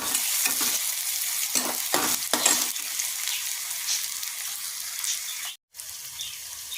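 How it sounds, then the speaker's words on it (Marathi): Onion being sautéed in a pan until pink for a quick black-eyed pea (chawli) bhaji, giving a steady close sizzle with scraping stirs in the first half and a brief pause near the end, no talking. "हा कांदा गुलाबी होईपर्यंत परतायचा आहे"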